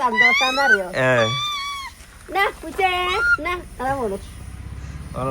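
A house cat meows several times close by in short, rising and falling cries with brief pauses between them.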